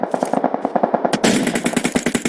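Rapid automatic gunfire in the mobile battle royale game PUBG Mobile, a loud steady stream of shots that thickens into denser overlapping bursts partway through.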